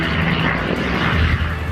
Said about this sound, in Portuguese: produtores rurais contam com a ajuda de aviões agrícolas no combate aos incêndios